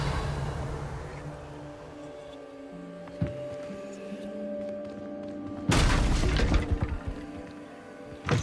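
A Revelio spell cast in Hogwarts Legacy, a sudden bright whooshing burst with shimmering crackle that flares up partway through after a quieter stretch of low ambience and a single thump, then fades with a final thud.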